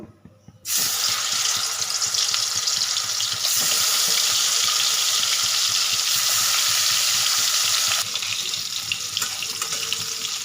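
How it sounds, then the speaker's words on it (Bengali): Fish pieces hit hot oil in a wok and burst into a loud, steady, hissing sizzle that starts abruptly and continues without a break, close up with no voices. "মাছগুলোকে উল্টে পাল্টে লাল লাল করে ভেজে নেব"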